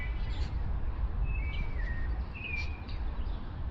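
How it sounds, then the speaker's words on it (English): Birds chirp and whistle in short, thin calls over a steady rumble of city traffic along a street walk in Mexico City, the song fairly faint and scattered. "There's lovely bird noise going on here."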